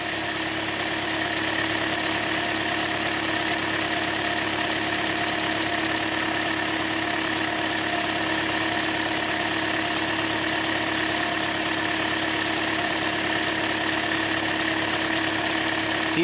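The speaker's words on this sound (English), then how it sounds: "with the engine running now" A Toyota car engine idles continuously at an even, constant drone throughout, with no voices.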